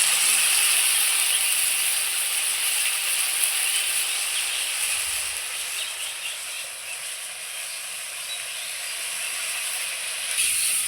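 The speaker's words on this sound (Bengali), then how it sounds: "এই পেঁয়াজটা দিয়ে আলুর সঙ্গে আবারও আমি ভেজে দেবো" Chopped onion frying with potatoes in a pan, a steady broad sizzle and hiss that holds for the whole stretch, dipping slightly midway and lifting again near the end, with no talk over it.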